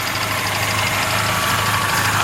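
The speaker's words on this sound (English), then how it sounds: "Motor runs real quiet." A 1983 Toyota Pickup 4x4 with the 20R engine idles steadily and quietly, a smooth continuous hum with no knocking, heard close and alone.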